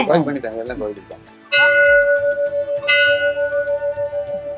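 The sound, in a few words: temple bell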